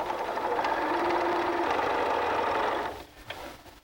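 A sewing machine runs steadily as it joins pink and blue fabric triangles for lap quilting, a close, even motor hum with rapid needle chatter. The stitching stops near the end and is followed by a couple of faint handling clicks.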